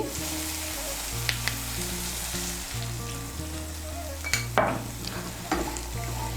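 Spice paste of cumin and coriander powder going into okra frying in a pan, a continuous close sizzle with a low hum beneath and a few scraping stirs, no talking.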